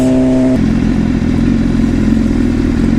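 A loud motorcycle engine idles and rumbles steadily and close by, with a brief tonal hum at the start that gives way to a continuous heavy engine drone.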